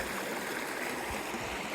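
A creek flows over rocks and stones in a steady, close rushing babble with no pauses, heard alone.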